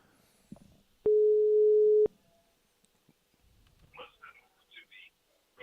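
A single steady electronic European telephone ringing tone sounds for about a second, followed by quiet rustling and soft speech.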